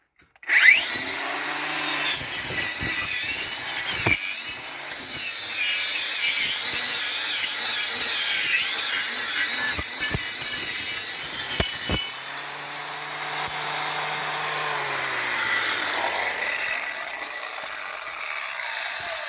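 An angle grinder with a cleaning disc whines loudly and continuously against a horse's hoof, grinding and rasping with shifting pitch before easing to a steadier hum.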